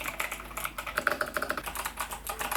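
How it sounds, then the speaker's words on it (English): Rapid typing on an 8BitDo Retro Mechanical Keyboard fitted with Kailh Box White V2 clicky switches: a dense, steady stream of sharp, loud, close-up clicks with no voices. "it has a sharp and loud clicky sound."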